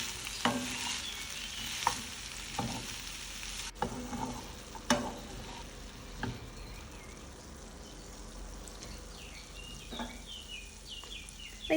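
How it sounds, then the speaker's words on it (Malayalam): Broccoli and other vegetables stir-frying in a pan, a soft continuous sizzle with scattered scrapes and clacks of stirring at irregular intervals, fairly quiet and without talk. "എന്നിട്ട് നല്ലോണം മിക്സ് ചെയ്ത് വെജീസൊക്കെ ഒന്ന് വേവിച്ചെടുക്കുക."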